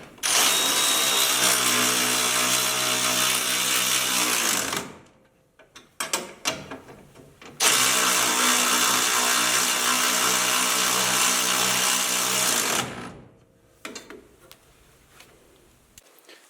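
Kawasaki Mule lift kit bolts tightened with a power ratchet or impact tool in two long, loud whirring bursts separated by brief clicks and handling noises, with no speech.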